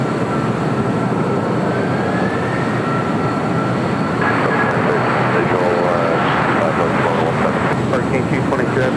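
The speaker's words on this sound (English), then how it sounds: "Have a takeoff at 25 right coming up." Jet aircraft taking off from runway 25 right at LAX: a loud, continuous engine roar that swells partway through, with a voice talking over it.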